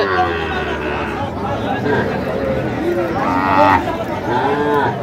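Cattle, including Sahiwal heifer calves, low and moo amid a busy crowd at a livestock market in Brahmanbaria, with steady chatter and voices throughout.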